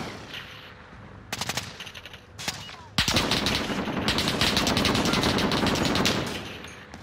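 Rapid automatic gunfire from a Call of Duty Modern Warfare match, loud close bursts starting around the middle and then sustained continuous firing, with a few scattered shots earlier.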